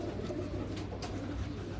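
Pigeons cooing softly in a loft, low throaty coos repeating under a faint background murmur, somewhat distant.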